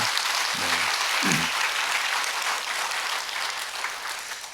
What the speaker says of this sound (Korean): 여러분 청년부에서 다시 한번 박수 한번 해주세요.